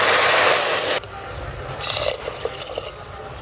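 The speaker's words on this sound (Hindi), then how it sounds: "अब मैं इसके अंदर 2 कटोरी ही पानी डाल रही हूँ।" Water splashes and pours into a pot of rice in two short bursts, close and loud, ending with a few drips.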